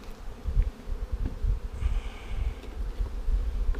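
Honey bees from a package colony buzz in a dense, continuous hum close by, a steady swarm drone with a few louder passes near the ear and no voices.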